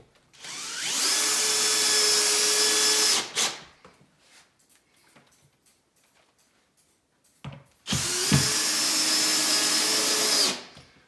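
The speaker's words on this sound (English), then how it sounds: "I can pull this down and screw it to the wall accordingly." Power drill driving screws through wood into a plasterboard wall: two sustained whirring bursts of about three seconds each, close and loud, with quiet handling noises between them.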